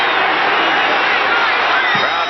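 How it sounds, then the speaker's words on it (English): A packed Texas Stadium crowd roars during a 1982 NFC playoff game, Dallas against Green Bay, a loud sustained cheer urging on the defense, with a commentator's voice partly audible over it. "Crowd coming alive and encouraging that defense again."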